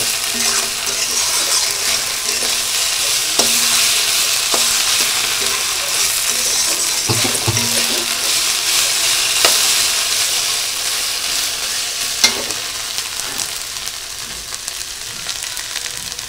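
Masala is fried and stirred in a pan, a continuous loud sizzle broken by occasional clicks and scrapes of a spoon against the metal, with no one talking.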